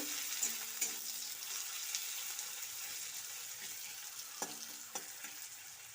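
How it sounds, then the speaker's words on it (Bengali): Chopped onion frying lightly in a pan for a Bengali pui-mituli chorchori, a steady soft sizzle throughout with a few sharp clicks of a spatula stirring near the end. "এবার পেঁয়াজ হালকা করে ভেজে নেব"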